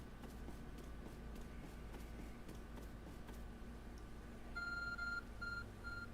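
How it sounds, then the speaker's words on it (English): Repeating electronic beeps from a glowing, phone-like object in the video game Pokemon Legends: Arceus, a few short tones at a steady rhythm over soft ambient game background noise. "There's a glowing, beeping object over there."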